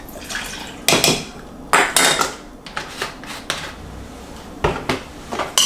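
Sugar and soy sauce stirred together in a bowl for Spam musubi: repeated sharp clinks and scrapes of a utensil against the bowl in an irregular rhythm, close and fairly loud, with no voices.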